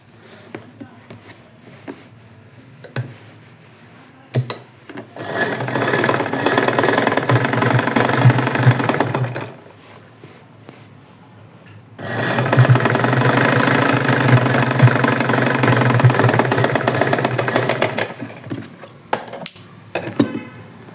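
A sewing machine stitches the hem of a ready-made pant being shortened, running in two long steady bursts of whirring motor and needle clatter separated by a quieter pause with small handling sounds.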